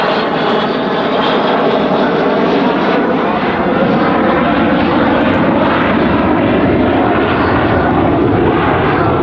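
An Avro Vulcan bomber with its bomb bay doors open flies past at the 2015 Cosford airshow, its engines a loud, steady, unbroken roar with no talk.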